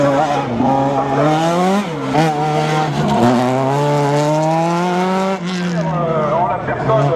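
Renault race car at a slalom event, engine wailing loudly and continuously with rising and falling revs through gear changes, close and dominant, with a commentator talking over it.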